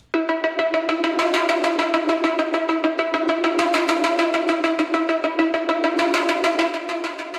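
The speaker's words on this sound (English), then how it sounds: "warped cinematic synth ARP" A fast, rhythmic synth arpeggio pulses steadily with bright, slightly wobbling tones, repeating notes in a continuous pattern with no voices.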